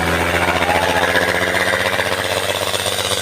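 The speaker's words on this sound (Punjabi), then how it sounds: "ਜਿਹੜਾ ਟਰੈਕਟਰ ਚੱਲ ਰਿਹਾ" A tractor engine runs steadily at a rural Punjabi trolley-pulling contest, a continuous droning rumble with a constant low hum and no pauses.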